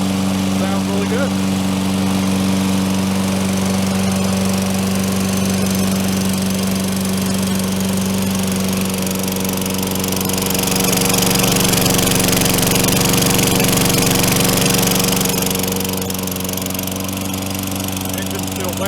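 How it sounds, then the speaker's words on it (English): Close, loud running of a Toro Recycler 20072 lawn mower's small engine, a constant droning hum that swells and roughens for a few seconds midway before settling back to its steady note. "Engine's still wet, but runs good."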